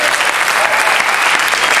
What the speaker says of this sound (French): On applaudit l'expert, Philippe Guérin.